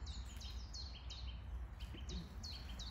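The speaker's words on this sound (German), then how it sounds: "lauschen dabei den Vögeln, die heute echt schön zwitschern" Forest birds chirp in repeated short, bright tweets on a pleasant day in a small wood, fairly near and steady over a quiet background hum, with no talking.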